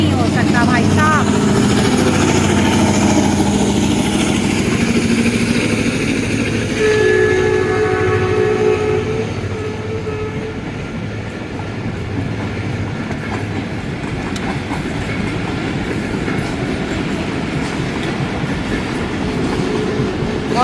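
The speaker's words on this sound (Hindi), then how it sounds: "ये अल्लामा इकबाल एक्सप्रेस है जो सीधा नारोवाल जाती है" The Allama Iqbal Express, running to Narowal, rumbles past close and loud with clattering wheels and railcars. Partway through, its horn sounds in a sustained blast before the rolling noise eases slightly and carries on.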